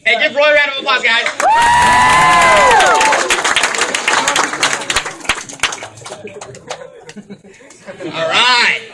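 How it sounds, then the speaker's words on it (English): A live crowd at a Vemma Super Saturday training event bursts into loud applause and cheering with whoops and laughter, then fades into scattered clapping and chatter before another short cheer near the end. A voice speaks over parts of it. "give Roy a round of applause, guys"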